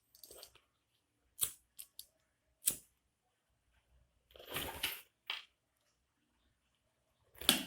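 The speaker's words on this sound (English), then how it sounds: "I will cut this excess zip cloth. Cut it out." Scissors cutting away excess zipper cloth on a handbag give a series of crisp, close snips, single and doubled, spaced apart by quiet pauses.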